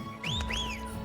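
A rising, two-note whistle blown in Final Fantasy XVI to summon a mount, clear and close, with a faint steady tone underneath.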